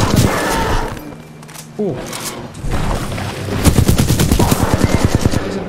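Rapid automatic gunfire from Titanfall 2 comes in loud, close bursts, with a mechanical whine and booms. Excited voices talk over it.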